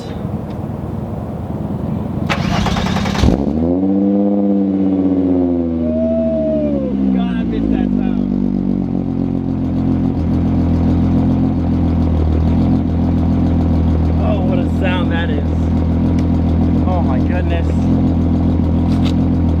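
A car engine cold-starts, cranking briefly, catching and revving up with a rising then falling whine, settling into a steady, loud idle that continues to the end.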